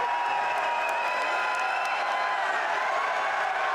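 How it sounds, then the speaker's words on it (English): A wrestling arena crowd at an MLW event cheers and applauds steadily, a dense, loud wall of clapping and shouting that holds without a break throughout. "Listen to the crowd."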